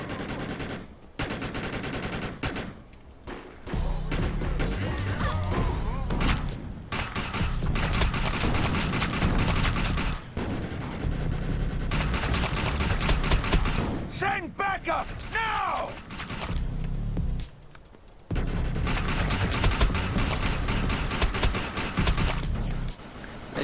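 Gunfire in the video game Defiance: sustained bursts of rapid automatic fire with mechanical clatter, loud and close, broken by short pauses, with occasional game voices mixed in.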